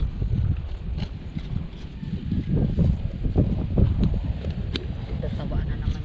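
Strong wind gusts across a farm field planted with flowering eggplant, buffeting loudly and continuously with low rumbling bursts.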